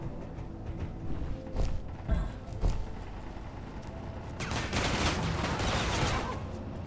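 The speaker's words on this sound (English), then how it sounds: "I saw those bullets landing near you" Video game gunfire in a lost-colony scenario, with a few sharp shots and impacts early on, then a denser, louder burst of rapid fire and bullets landing nearby toward the end over a steady ambient bed.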